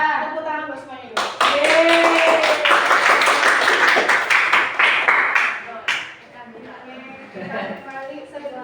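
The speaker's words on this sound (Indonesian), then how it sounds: "Tepuk tangan buat semuanya dulu." A classroom group in a teaching session bursts into brisk clapping that runs loud and dense for about five seconds, then stops. Voices talk before and after it.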